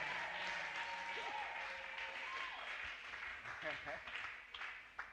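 A church congregation claps during a sermon, a soft sustained patter of hands spread across the room, with a preacher's voice running over it.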